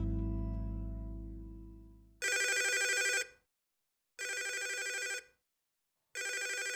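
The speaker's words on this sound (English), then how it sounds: "What's this? A phone call, and it would appear it's important." Video game telephone ringing in three loud, clean bursts of about a second each, separated by silent gaps, following a fading low musical tone at the start; no voices.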